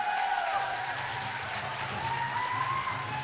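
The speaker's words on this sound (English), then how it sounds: "Round of applause for Happy." Sustained audience applause at an outdoor arts festival welcoming a hoop dancer, a steady wash of clapping from a crowd held at an even level throughout, with a faint tonal whistle drifting over it.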